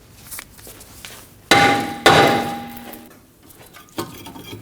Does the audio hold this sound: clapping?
no